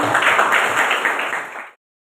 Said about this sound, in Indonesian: Boleh tepuk tangan dulu semuanya.